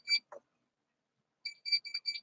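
A kitchen timer sounds in short electronic beeps, first a single faint chirp and then a quick irregular burst of several more, soft and alone in a quiet room.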